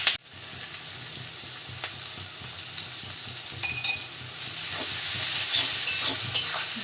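Onions with salt, nigella seeds and green chili frying in a pan for a sesame and pointed gourd dish, a steady close sizzle with occasional spatula scrapes and clinks, swelling slightly toward the end.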